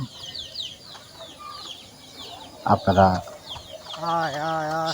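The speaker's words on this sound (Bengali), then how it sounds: "যেভাবে দেশি মুরগি পালন করি" Native village chickens cluck and call close by, with a burst of louder squawking midway, while a person speaks briefly over the birds.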